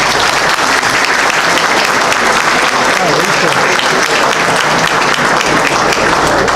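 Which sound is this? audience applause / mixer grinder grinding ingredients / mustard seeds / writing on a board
audience applause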